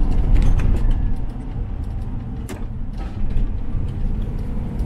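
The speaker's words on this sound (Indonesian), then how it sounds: "aku mau pindah gigi dulu guys" A car changes gear on a foggy uphill road while making delivery rounds, with a steady engine drone, a dip and a shift in tone partway through, and faint clicks.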